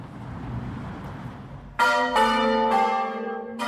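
Church bells ringing out in a series of loud, ringing strikes, four clear peals starting partway through, each with a long shimmering decay over a faint background hush.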